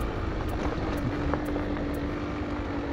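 Airplane passing over near an air show, heard as a steady, fairly loud engine drone with no talking.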